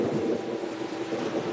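Rain pours down in a thunderstorm over newly formed eastern Australia, a steady, fairly faint rushing hiss with a soft low rumble underneath and no voices.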